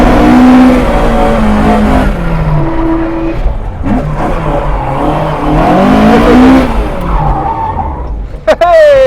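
A modified car spinning through a 180 and a 360, engine revving loudly with wavering pitch and tyres skidding and squealing, close and continuous, with voices shouting over it near the end.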